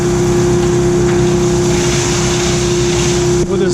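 Loud, steady mechanical hum and drone of a Virtus C machine processing 30-60 trays, with a constant tone and rumbling motor noise that briefly dips near the end.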